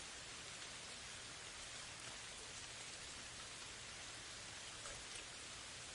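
Steady rain falls without pause, a dense, even hiss of drops spread across the whole stretch with no other sounds.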